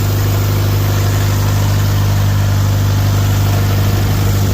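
A 1947 Willys L134A Go Devil engine idles steadily on its first start after years unused, a loud, even low rumble with a constant hum running throughout and no voices.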